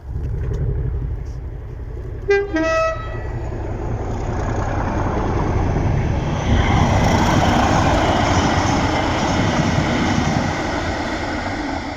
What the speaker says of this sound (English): Class 37 and a Class 66 on a railhead treatment train, and they pass in this clip